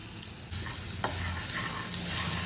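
Garlic frying in a pan over a low gas flame, a steady soft hiss that grows a little louder after a faint clatter, with a brief stirring scrape and no one speaking.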